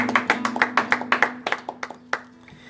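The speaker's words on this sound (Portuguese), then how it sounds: "Vamos aplaudir o Senhor," A small church congregation claps together in a quick, fairly regular rhythm of sharp handclaps close by over a steady low hum. The clapping thins out and stops after about two seconds.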